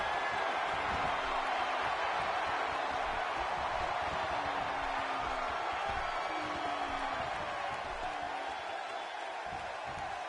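A wrestling video game crowd on PS4 cheers in a steady, dense roar that fills the whole stretch, loud and unbroken, with faint murmured voices blended into the noise.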